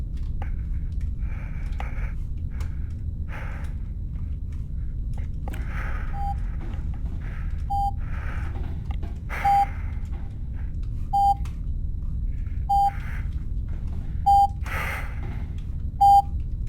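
A short electronic beep repeats at a steady pace, roughly every second and a half, over a low droning hum with soft breathy sounds, in the video game Chasmal Fear.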